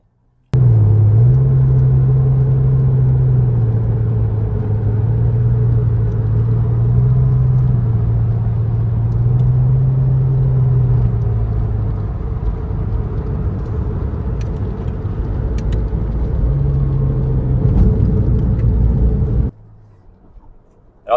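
A Porsche 996 Carrera 2 cabriolet drives a rally road on a rainy day, its engine a steady low droning rumble with small shifts in pitch, then cutting off near the end.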